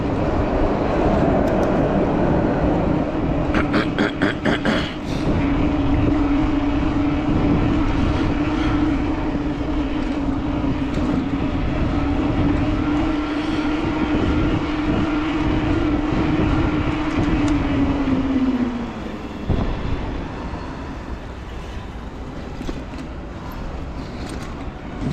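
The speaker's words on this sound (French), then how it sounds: "Il y a le tram qui est là." Tram rolling past on a city street beside a cycle path, a loud steady rumble with a sustained whine that holds for about fifteen seconds before dropping off, heard close by over continuous traffic and road noise.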